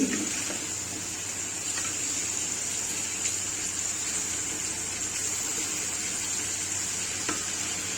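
Bitter gourd with chopped garlic stir-frying in an open pan, a constant close sizzle with a few faint scrapes of the spoon, no talking.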